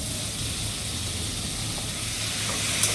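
Fried pointed gourd and potato go into a hot pan, setting off a loud, continuous sizzle and hiss heard up close for a few seconds.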